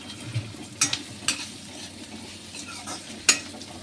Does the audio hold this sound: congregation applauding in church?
no